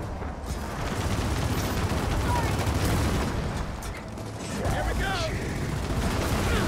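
Gunfire rattles in Gears of War 4 as players shoot at incoming bombs, a dense, continuous barrage of shots and explosive rumble filling the whole stretch at steady loudness.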